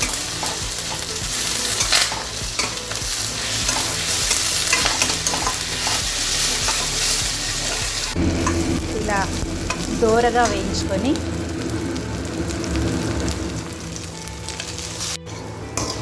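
Chutney ingredients, including ginger garlic paste, are roasted in a pan with a constant loud sizzle and repeated scraping strokes of a spatula. The texture shifts partway through as the stirring continues.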